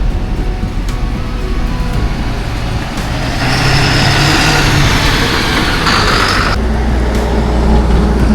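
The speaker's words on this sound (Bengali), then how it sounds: "সমস্ত বাসগুলো বের হচ্ছে" Buses pulling out of the Kishanganj bus stand in Bihar, with heavy diesel engines rumbling and revving up close, growing louder midway as a large vehicle accelerates past, no talking.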